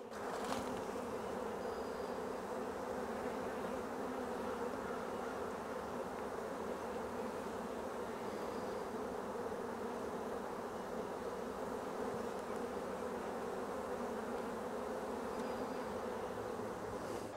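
A dense, continuous buzz of many honeybees around a hive during a spring inspection, steady and close, with no talking, holding an even hum throughout.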